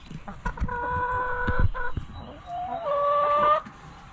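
Chickens cluck and squawk close by in a series of short, harmonic calls, with a few louder drawn-out ones near the end.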